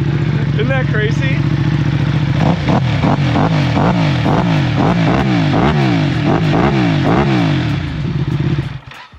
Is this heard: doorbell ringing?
no